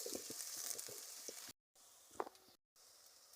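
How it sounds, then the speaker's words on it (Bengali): Onions sizzle in hot oil in a pan while being stirred for a Bengali fish and red spinach dish. A close, soft crackle carries light spatula scrapes and clicks, broken by two brief silent gaps. "এবার ভালোভাবে নাড়াচাড়া করব।"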